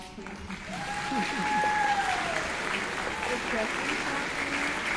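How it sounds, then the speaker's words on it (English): Students and parents fill a school auditorium with sustained applause after a winter concert, a broad steady wash of many hands clapping at moderate distance, with a voice briefly heard over it. "Kids, can you give your parents a round of applause, please?"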